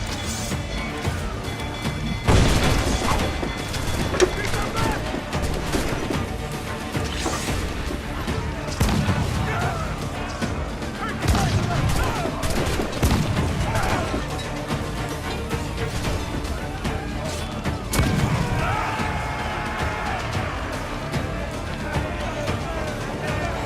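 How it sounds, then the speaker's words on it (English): Ship cannons fire during a naval battle in the video game Assassin's Creed IV: Black Flag, with a few heavy booming blasts breaking through a dense, noisy battle mix while someone speaks over the action. "Fire what cannons you will, and land a few strikes if you must, but for God's sake, don't sink them."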